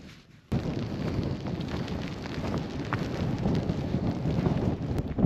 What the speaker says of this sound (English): Just heard thunder.